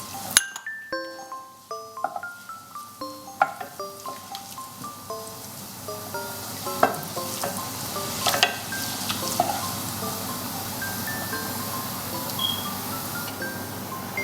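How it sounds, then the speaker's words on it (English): Fennel seeds fry gently in melted ghee in a pan, a faint, soft sizzle with light stirring, heard quietly beneath a plucked melody. "Once the ghee has melted, add 2 teaspoons of fennel seeds and stir for a few minutes."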